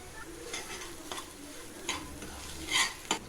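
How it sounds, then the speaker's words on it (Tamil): Cassava pieces fry in a pan with salt and chili powder while being stirred. A quiet, even sizzle runs throughout, with intermittent spatula scrapes that grow louder near the end. "ஃப்ரெண்ட்ஸ், நல்லா ஃப்ரை பண்ணிக்கலாம்"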